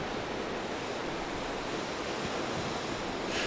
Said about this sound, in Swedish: Det här bruset från havet